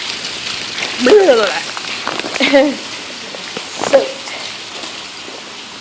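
Steady outdoor rain falling as a constant hiss of drops on surfaces, with a person speaking and exclaiming close by over it.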